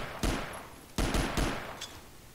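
Assault rifle fire in a video game shooter match, heard as several sharp, loud bursts of shots separated by short gaps, with no voices over them.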